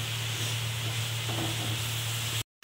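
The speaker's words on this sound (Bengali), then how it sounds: "দিয়ে ভালো করে নাড়াচাড়া করে নিচ্ছি, ভালো করে কষিয়ে নিচ্ছি" Ground fried spice mixture being stirred and sautéed in a hot pan, a steady close sizzle with soft scraping under it, running continuously and then stopping abruptly.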